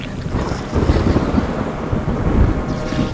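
Steady heavy rain and low rumbling thunder roll through, with gusty wind buffeting close by and no voices.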